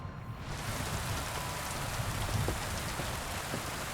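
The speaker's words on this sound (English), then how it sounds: "I love rain." Rain falling in the video game Kingdom Come: Deliverance II, a steady broadband hiss of downpour on the ground that swells in within the first half second and continues evenly, with a few faint drops standing out.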